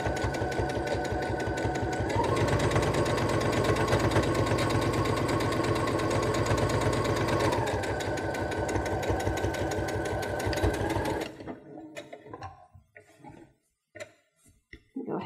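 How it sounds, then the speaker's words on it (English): A sewing machine runs steadily for about eleven seconds, stitching fabric guided along a magnetic seam guide with a rapid, even mechanical rhythm, then stops, leaving quiet handling noises. "we'll place our fabric in there, line it up, do our back stitch, and then begin sewing"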